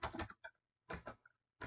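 Quick bursts of typing on a computer keyboard, two short clusters of close, crisp key clicks separated by a brief pause, with no voices.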